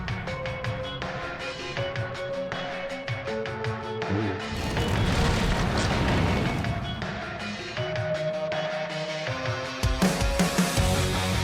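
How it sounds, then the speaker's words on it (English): Loud, driving distorted guitar riff from a rock song, with steady rhythmic chugging, dense full-band crashes and a brief drop before the riff kicks back in. "Driving guitar riff."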